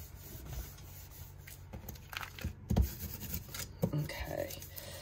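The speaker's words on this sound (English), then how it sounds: "I just want to burnish everything down." Firm rubbing as adhesive-backed Dura-lar is burnished down by hand for an alcohol-ink shadowbox, giving faint scraping strokes that stay quiet and close, with a few louder rubs toward the end.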